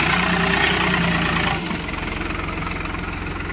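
A Swaraj tractor engine labours close by on a muddy road, a steady loud rumble with a throbbing low pulse that drops slightly in pitch partway through.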